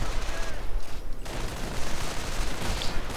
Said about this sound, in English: BAR firing away as well